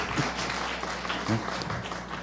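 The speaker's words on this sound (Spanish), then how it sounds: "Un aplauso para Liz." Audience applause at a forum on women's leadership and entrepreneurship, greeting a deputy managing director; a brief, somewhat muffled patter of clapping with a low hum underneath and a voice briefly heard over it.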